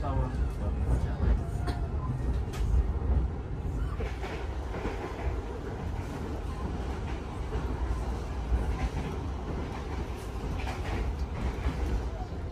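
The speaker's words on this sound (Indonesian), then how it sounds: "perjalanan kereta api Tawang Jaya Premium yang saya naiki sudah melintas langsung di stasiun Cikarang" Inside the Tawang Jaya Premium passenger train travelling from Semarang Tawang toward Jakarta, a steady loud rumble of wheels and carriage runs throughout, with faint rail clatter and occasional indistinct voices underneath.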